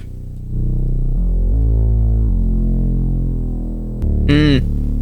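A thick, buzzing low distorted synth bass with glide holds sustained notes that step between pitches, with a short bright squelchy blip near the end.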